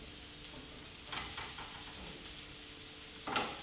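Mushrooms tossed into onion and garlic browning in a pan make a steady, close sizzle that flares twice in brief louder bursts, heard alone without voices.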